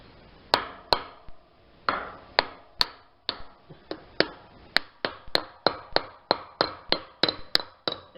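A hammer strikes repeatedly during assembly of a folding trailer, sharp close knocks that start irregular and settle into a fast, steady rhythm.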